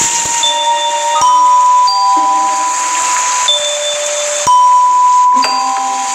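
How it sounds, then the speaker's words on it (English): A palace doorbell in a children's fairy-tale story chimes a melody of clear bell tones, single struck notes ringing and sustaining one after another, loud and close with no talk over it. "She should try ringing the bell so that the servants will open the door."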